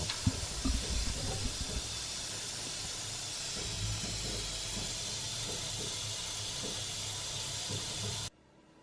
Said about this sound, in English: And now we'll bring this to the boil.